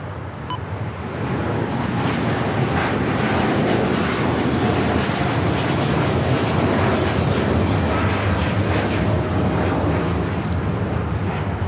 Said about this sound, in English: This is American Airlines Flight 27 taking off to Tokyo Haneda on the 787-9 Dreamliner.